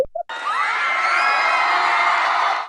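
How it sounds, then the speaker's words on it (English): A crowd of people screaming and cheering in one loud, sustained burst of shrill whoops and shouts that stops abruptly after a brief noise at the start. "We need a soundtrack where people are screaming."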